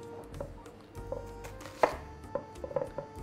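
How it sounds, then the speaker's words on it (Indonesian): A knife chops an onion on a cutting board in a home kitchen while cooking chicken with mushroom sauce, giving a series of sharp, close taps at an uneven rhythm, one louder thud standing out, with no talking. "Bawang bombay juga kita potong-potong gini aja."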